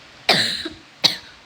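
Two separate coughs, the first harsher and longer, the second short and sharp, close by with quiet between them.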